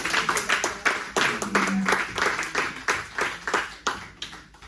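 A church congregation claps in rhythm, steady rounds of hand claps filling the room with a faint sustained tone underneath, fairly close and lively throughout.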